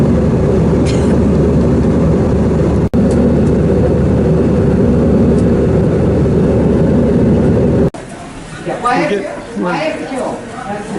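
An airliner flying between Quito and the Galapagos fills the cabin with a loud, steady engine drone for most of the stretch, then it drops away as a person talks over quieter background noise.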